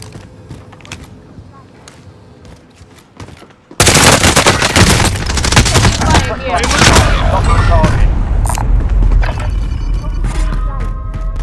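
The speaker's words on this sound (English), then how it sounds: "Taking fire here." Heavy Call of Duty Warzone gunfire erupts after a quieter opening of faint game noise, with loud, dense bursts of shots and booms continuing steadily to the end, under occasional talk.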